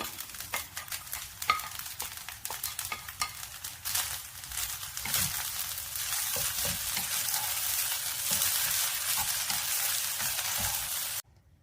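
Potato rice stir-fried with spring onion in a pan sizzles continuously, with stirring scrapes and clinks early on, then settles into a steady, dense hiss until it stops abruptly.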